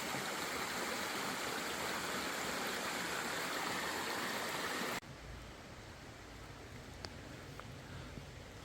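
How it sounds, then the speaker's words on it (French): A small waterfall, the Siratu cascade in the Loue valley, runs with little water, giving a steady soft rushing hiss that drops to a quieter flow halfway through, with a few faint clicks near the end. "Et voici la cascade de Siratu. Bon, là, il n'y a pas beaucoup d'eau."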